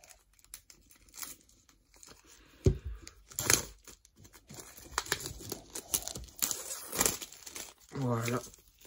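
Plastic wrap is torn and crinkled off a Blu-ray box set holding two steelbooks, giving scattered rustles, crackles and ripping bursts close up, with a short spoken phrase near the end.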